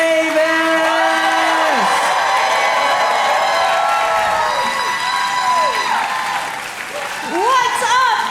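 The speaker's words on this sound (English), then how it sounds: "Ladies and gentlemen, start clapping right now" A comedy club crowd at a stand-up competition final in Austin claps and cheers loudly as a comedian comes on, whoops rising over steady applause while a host talks over the noise.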